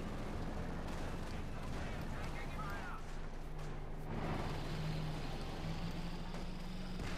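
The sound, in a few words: gunfire on a bunker in video game Company of Heroes 2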